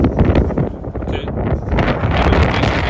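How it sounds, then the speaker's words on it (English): Wind blowing hard on a windy day, buffeting the microphone with a loud, continuous rumbling roar and gusty rustle beside a Volvo 730, with no voices. "Pretty windy day today."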